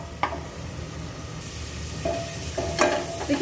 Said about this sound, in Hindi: देखिए प्याज अच्छे से भून गए हैं।